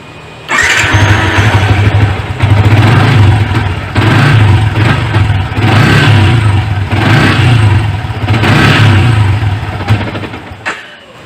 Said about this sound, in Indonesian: Jadi nyalanya agak susah, tidak bisa sekali jadi, dan ketika menyala ditarik gas dia mati.